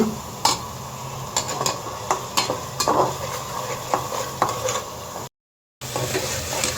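Spice paste with sour yogurt being sautéed and stirred for a tripe dish: a bright sizzle under repeated spatula scrapes and clicks against the pan, cut by a brief silent gap near the end.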